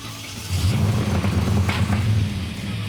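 An old car engine turns over, then rumbles steadily at idle with a low throbbing tone and some faint background noise.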